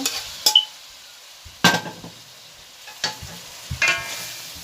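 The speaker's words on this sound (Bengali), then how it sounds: "আলুগুলো একটু ভেজে নিছি আমি" Potatoes fry in a pan after the spice paste, a soft sizzle broken by four sharp spatula scrapes and clinks against the metal at irregular intervals, close by.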